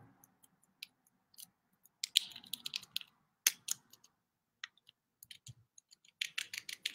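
A tiny plastic bag holding fly-tying material is opened up close, giving sparse, crisp crinkles and clicks in irregular bursts against near silence.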